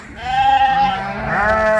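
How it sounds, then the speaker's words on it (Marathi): Sheep penned in an enclosure bleat loudly and close by, one long wavering call rolling into another with little pause. "आपली सगळी मेंढरं वाड्याला आलेली आहेत"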